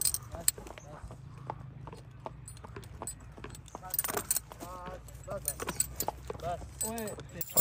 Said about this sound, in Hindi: पकड़ लिया जी बछेरे को चाल पे, बाकी घोड़े वापस भेज दिए हैं, बाकी इकराम के हाथ वापस भेज दिए घोड़े